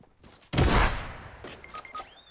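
Sniper gunfire in Fortnite: one sharp, loud shot bursts in and rings out over about half a second, followed by fainter game tones and chimes.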